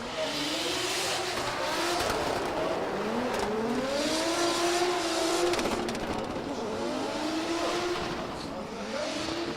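A drift race car spinning out at the Oman International Drift round, its engine howling in rising and falling revs with tire squeal, loud and close, while a commentator talks over it.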